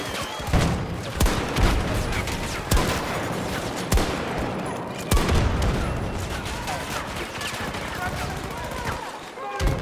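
Rapid machine gun fire in a video game, dense overlapping bursts and booming shots filling the whole stretch, loud and close, with a voice talking under the shooting.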